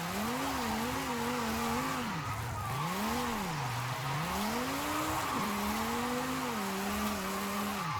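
A drift car in Forza Horizon 5 holds a long, wavering tire squeal over a droning engine, the pitch sweeping up and down as the car slides, spins and recovers, loud and steady throughout.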